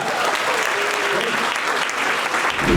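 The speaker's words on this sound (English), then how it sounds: "round of applause for that" An audience at a live stand-up comedy show claps and cheers loudly and continuously, a dense close wash of applause throughout with a few voices mixed in.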